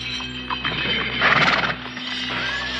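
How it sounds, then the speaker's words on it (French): A drunk rider's horse gives a loud, shrill whinny with squealing overtones, set against a steady hum and scattered clattering of hooves, up close and with no talking. "le cheval d'un cavalier ivre piétina et mit en 1000 morceaux toutes les poteries"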